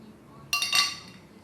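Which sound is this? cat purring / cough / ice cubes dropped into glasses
ice cubes dropped into glasses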